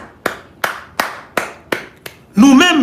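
Applause from an audience comes across as a handful of sharp, evenly spaced claps, close and fairly loud, before a voice starts speaking at the end.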